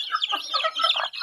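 A mother hen with chicks clucks in a short, close burst of quick, throaty chatter, with no other sounds around it.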